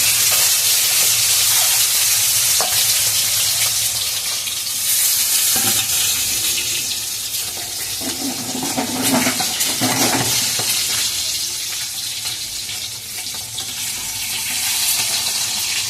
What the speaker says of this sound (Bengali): আমি ডিমটা ছেড়ে দিয়েছি তেলে